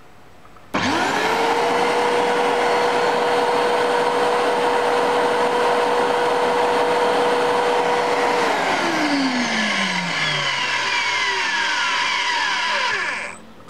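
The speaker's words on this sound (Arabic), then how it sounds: "نقدر دابا نزيد في لا فيتيس ديال هاد لاسبيراتور، نعطيها الماكسيموم" A vacuum cleaner switched to its maximum speed kicks on abruptly with a loud, steady motor whine and rushing airflow, holds for about eight seconds, then winds down with a falling pitch as it coasts to a stop.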